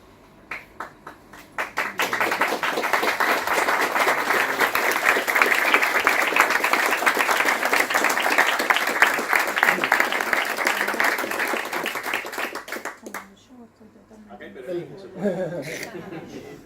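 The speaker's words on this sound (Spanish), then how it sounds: "Me emociona el aplauso de ustedes porque es histórico este momento" An audience at a lecture breaks into loud, sustained applause that swells quickly and holds for roughly ten seconds before tapering off, with some laughter and murmured voices as it fades.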